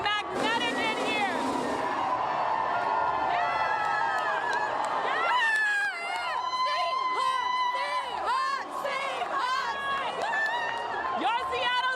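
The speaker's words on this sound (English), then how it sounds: "Listen to that. Look at this crowd." A large crowd cheers and whoops at a Seattle Seahawks Super Bowl championship celebration, a loud, continuous roar with piercing whistles and shouts throughout.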